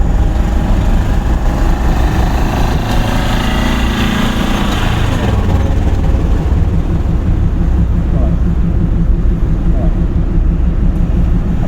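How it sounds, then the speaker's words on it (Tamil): A car engine hums steadily in third gear during a driving lesson, loud and continuous with a rising strain early on that eases off, the drone filling the cabin throughout. "போகலாம் தேர்ட் கியர்"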